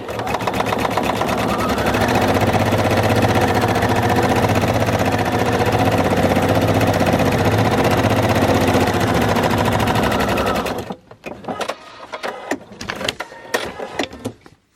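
A sewing machine stitches the side seams of swimsuit bikini bottoms with a fast, steady, loud mechanical rattle that runs for about eleven seconds, then stops, followed by scattered clicks and fabric handling.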